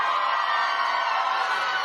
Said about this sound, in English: the whole crowd are screaming for Tom Hanks